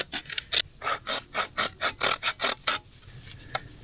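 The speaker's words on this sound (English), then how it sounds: "I'm gonna saw the end here, so I have something to hammer a flat surface" Hand saw cutting through the end of a piece of wood at a forest campsite, about a dozen steady rasping back-and-forth strokes, close and fairly loud, then the sawing stops.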